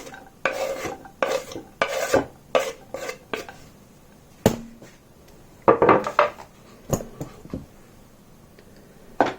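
Irregular clinks and scrapes of a utensil stirring in a pan, with a light sizzle of finely chopped onion and garlic frying in oil underneath, close up.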